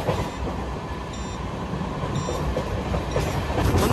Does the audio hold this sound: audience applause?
no